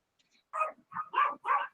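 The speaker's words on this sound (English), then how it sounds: "Oh, that's my dog." A dog barks in a short burst of four quick yips and woofs, fairly close but soft, in an otherwise quiet indoor room.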